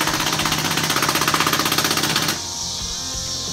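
A power tool rattles in a loud, rapid stutter while tightening carriage bolts on trailer decking, hammering steadily up close for about two seconds before stopping abruptly into a lower mechanical hum.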